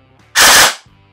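A CYMA CM.131 airsoft gun with a programmed MOSFET fires one short burst, a loud close buzzing rattle of rapid shots lasting under half a second, with quiet before and after.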